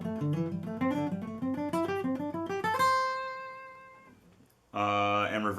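Guitar runs through a pentatonic scale in fast groups of three notes, climbing steadily in quick plucked bursts before a single note rings out and decays, then a brief chord enters at the end.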